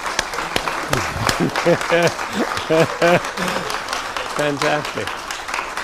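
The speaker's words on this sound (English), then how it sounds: "A little applause, please." An audience claps steadily throughout while someone speaks over the applause.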